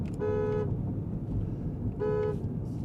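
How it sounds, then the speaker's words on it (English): A 2025 BMW M5 Touring's standard car horn honks twice in short bursts, separated by a pause, over low road rumble. "Just a standard old horn."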